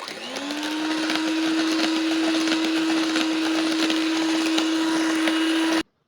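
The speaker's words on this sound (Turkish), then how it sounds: "Ve çırpmaya devam ediyoruz yağı döktükten sonra." An electric hand mixer whirs steadily as it whisks revani batter with milk and freshly added sunflower oil in a bowl, one continuous close motor drone lasting several seconds before cutting off abruptly.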